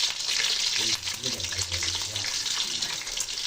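Three eggs fry in hot oil in a kadai, making a loud, close, continuous crackling sizzle with bubbling spatter throughout.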